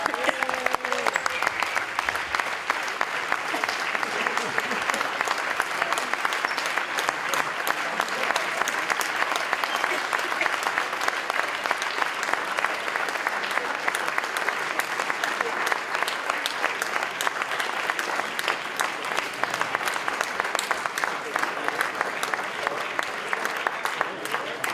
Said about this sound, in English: Vous pouvez l'applaudir bien fort, s'il vous plaît.